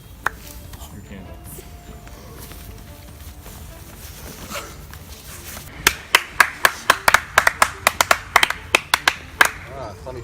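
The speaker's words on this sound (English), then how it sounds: "Funny who's clapping." Scattered hand claps at a Survivor-style tribal council vote-off, a dozen or so sharp claps in a loose rhythm toward the end, preceded by quieter room noise with faint voices.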